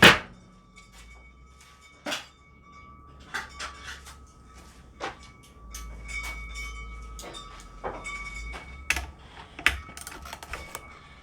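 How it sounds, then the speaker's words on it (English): Ratchet working on a Chicago generator, scattered sharp clicks and metallic knocks at irregular intervals over a low rumble, close and fairly quiet. "We'll check it with a ratchet."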